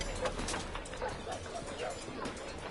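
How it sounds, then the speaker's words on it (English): Dogs bark and yip repeatedly in the video game Sherlock Holmes: The Devil's Daughter, a steady run of fairly loud, close barks and whimpers over a constant game background. "Oh, now there's dogs that I have to go past."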